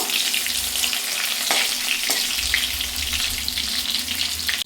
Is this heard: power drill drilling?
no